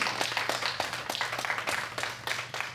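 An audience at a city council meeting claps steadily, a dense run of many hands heard fairly close and loud throughout, with no talk over it.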